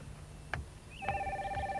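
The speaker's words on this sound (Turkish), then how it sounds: "Sevgi Hanım, telefon." A telephone rings in a room in a Turkish TV drama, starting with a short click and then sounding a sustained electronic two-tone ring, fairly quiet and heard alone.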